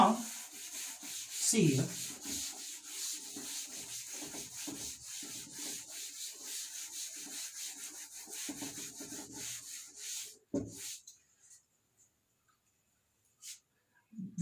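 Writing rubbed off a board during a Class 12 physics lesson: repeated close scrubbing strokes run steadily for about ten seconds, then stop, with brief speech and a few knocks near the end.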